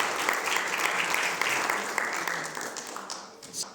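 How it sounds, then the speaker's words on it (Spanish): Sustained applause from a church congregation, steady and full for several seconds, tapering slightly toward the end. "Denle el aplauso a Él"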